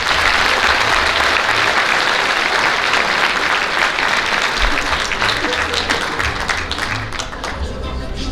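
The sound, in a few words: applause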